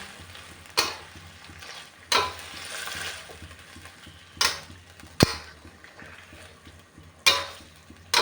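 Chicken breast and curry paste stir-fried in a pan for Thai chicken curry with pumpkin, close and loud: steady sizzling broken by repeated scraping strokes about every second and a half, with an occasional metallic knock.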